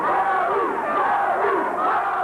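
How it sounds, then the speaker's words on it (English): A boxing crowd at a junior welterweight title fight chants a fighter's name, a loud, dense roar of many voices rising and falling in a steady rhythmic chant filling the arena. "Crowd chanting Gary, Gary for Hinton."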